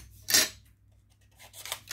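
Scissors make one sharp, close snipping cut through paper, followed by quieter rustles and small snips as a thank-you message is cut out for a star card.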